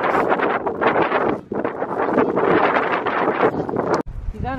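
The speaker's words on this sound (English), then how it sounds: "It's windy and it's like drizzling." Strong wind buffets the microphone in continuous gusty roars during light drizzle, with a brief pause before a final burst.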